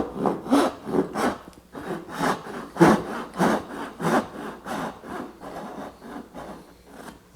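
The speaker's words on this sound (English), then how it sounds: "see how I just touching the knife line in each case and sawing nice and plumb and true" A hand saw cuts dovetails in wood, with about a dozen steady back-and-forth rasping strokes in an even rhythm, close and moderately loud, with no talking.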